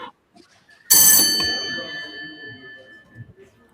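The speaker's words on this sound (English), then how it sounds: "Swaray, test your buzzer" A quiz contestant's buzzer is tested at a school quiz match, giving one sudden bright electronic ding that rings out and fades over a couple of seconds, with faint voices and room noise around it.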